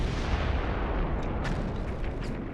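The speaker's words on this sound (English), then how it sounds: "Then came the frightful explosion." A frightful explosion set amid early twentieth-century wartime scenes: a loud, continuous, broadband roar with heavy low-end rumble that fills the whole stretch without letup.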